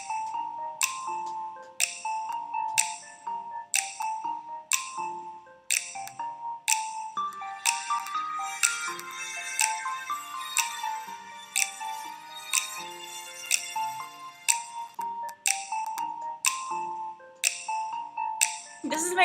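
Electronic beeping tones from a Neopets video game puzzle play in a regular, evenly spaced pattern of short pitched blips, briefly overlapping into a denser jingle midway before the steady beeps resume.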